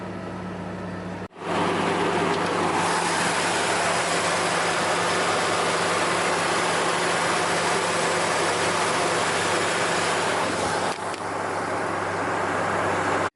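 A used car's engine idles steadily after startup, a constant low drone with a brief dip near the start, heard close and alone.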